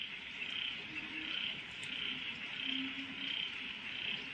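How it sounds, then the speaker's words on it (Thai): Frogs croak in repeated pulsing bursts at a pond near a house at night, set against a constant high insect chorus, moderately distant and fairly faint, with no voices. "เสียงเขียดร้องแล้วก็บางทีก็มีเสียงกบร้องด้วยที่บ่อน้ำใกล้ๆหน้าบ้าน"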